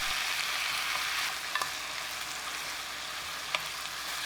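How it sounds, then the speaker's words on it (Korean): Pork and sour kimchi stir-fry in a hot pan with a loud, continuous close sizzle and a few sharp clicks of a utensil. No one speaks. "10초 정도 김치를 볶다가 고기와 함께 합쳐서 골고루 볶아줍니다."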